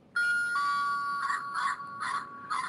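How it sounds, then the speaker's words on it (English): A Lego set's toy doorbell rings out a clear electronic ding-dong chime, a sustained tone followed by four quick repeated notes, close and alone with no talking. "It has a doorbell with a dog"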